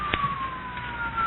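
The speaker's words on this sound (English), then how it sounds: "Those are police cars, Tony, coming here." Police car sirens wail steadily in a gliding tone, sounding somewhat distant and getting closer, set in an old radio crime drama.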